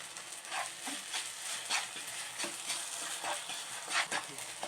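Sago kesari is stirred in a pan with a utensil, rhythmic scraping strokes repeating about once a second over a soft, constant sizzle, close and moderately loud, with no voices.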